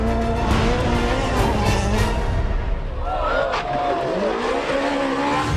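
A rally car driving flat out on a stage of the Rally of Argentina, the engine roaring loud and close with shifting revs and tire noise while a co-driver calls pace notes over it.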